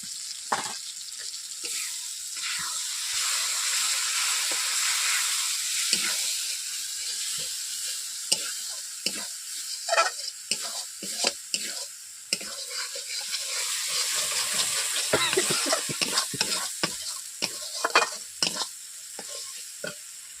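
Butter sizzling in a pan for Bengali prawn malai curry, a steady close hiss of frying with intermittent crackles and stirring scrapes that grow busier toward the end.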